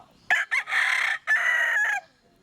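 A fighting cockerel crows loudly and close, a single full cock-a-doodle-doo with a short broken start, then a long sustained call before falling silent.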